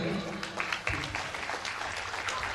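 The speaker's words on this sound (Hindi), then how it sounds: "तो इनके लिए भी आप यहाँ ताली बजा दीजिएगा।" A temple audience at a Shrimad Bhagwat Katha gathering claps steadily for an honoree, a dense patter of hands heard somewhat faintly with voices mixed in.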